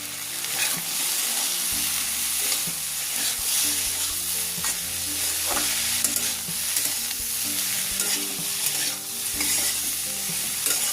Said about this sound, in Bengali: এবারে এই সব মশলাগুলো সবজির সাথে খুব ভালো করে কষে নেব